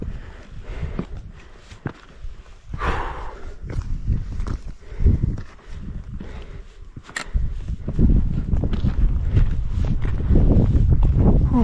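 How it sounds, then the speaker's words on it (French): Gusts of wind buffet the microphone on a mountain peak, rising and falling in rough bursts with a steadier, louder rush toward the end, plus a few scuffs and footsteps close by. "Ah, il y a du vent."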